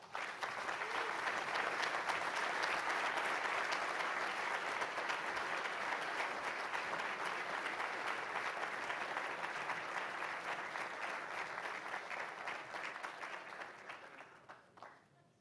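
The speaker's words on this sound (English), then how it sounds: "I heard applause." Sustained applause from an audience as the mayor is welcomed to a morning housing session, dense steady clapping filling the room and slowly fading out near the end.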